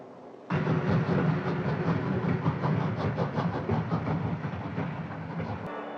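A 1947 Finnish express train heading north rumbles steadily as heard from inside its dining car, with a dense rolling roar and faint repeating wheel clicks that start abruptly and continue evenly, with no talk.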